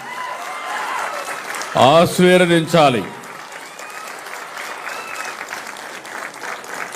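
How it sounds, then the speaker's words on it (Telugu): Audience applause fills a speech event held by the Andhra Pradesh Chief Minister, a steady crowd clapping heard throughout, with a short spoken phrase from the speaker rising over it near the middle. "ఈ 3 కూడా గట్టిగా చప్పట్లు కొట్టి మీరందరూ వారిని అభినందించాలి"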